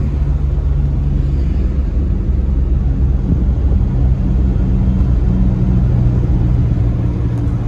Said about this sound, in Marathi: असा एकदम व्हायब्रेशन वाला आवाज येतोय.